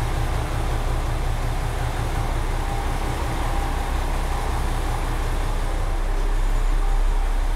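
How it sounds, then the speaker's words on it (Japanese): A steady, low rumble of a train in Ehime, Shikoku, fills the whole stretch, broad and continuous with no voices, like standing aboard or right beside a running rail car. "これが乗る列車ですね。"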